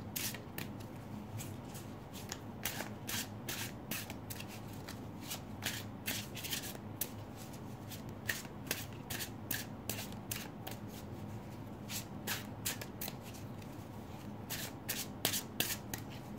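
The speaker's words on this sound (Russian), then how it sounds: "Давайте достанем еще одну карту" Tarot cards are shuffled and drawn by hand, making a quiet, close run of repeated papery riffles and flicks in irregular bursts, with no voice.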